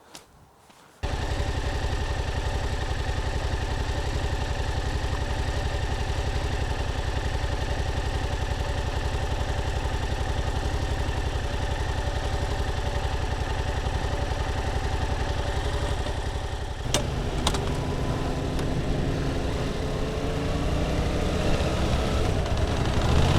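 A Yamaha MT-07 motorcycle engine starts and runs with a steady, loud hum close by, then the tone shifts as it pulls away and rides on.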